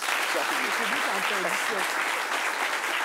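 A crowd claps steadily and densely throughout, a full wash of applause with faint voices mixed in.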